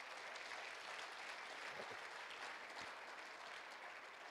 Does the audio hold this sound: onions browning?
no